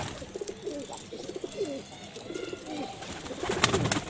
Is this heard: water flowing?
no